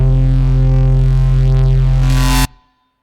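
An FM synth keys patch with send reverb plays a loud sustained chord with deep bass and a bright swell, then stops sharply, leaving a short reverb tail that fades quickly like a big room.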